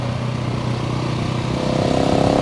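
A Husqvarna 701 motorcycle rides along a home road with a steady, loud single-cylinder drone, its pulsing engine note building as it accelerates near the end, with no voices.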